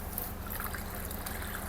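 Water pouring steadily into an orchid sprayer bottle for mixing fertilizer and pesticide, a continuous close trickling rush at even loudness with no talking.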